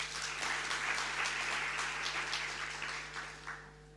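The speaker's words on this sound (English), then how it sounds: "I want you to give our President a clap." Sustained applause from an audience at a celebration event honouring the President, a dense, steady wash of many hands clapping that holds strongly for several seconds before tapering slightly, with a low electrical hum underneath.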